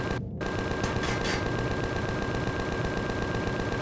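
Gatling guns firing in the space survival game Empyrion Galactic Survival, a sustained rapid rattling burst of fire, loud and close, after a brief gap at the start.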